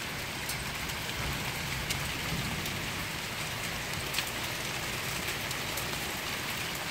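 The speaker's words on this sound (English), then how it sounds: "hailstones are even getting in" Hail and heavy rain pour down steadily during a freezing morning thunderstorm near a house, a dense continuous hiss with scattered sharp ticks of stones striking surfaces and no voices.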